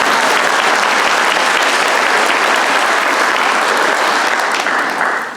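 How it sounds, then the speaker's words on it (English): A large audience at a middle school ribbon cutting bursts into loud, sustained applause that fills the space, tapering slightly near the end. "They're worth some applause."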